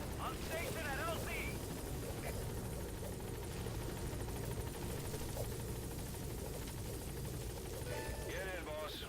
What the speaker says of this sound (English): as soon as the helicopter gets down here, sure.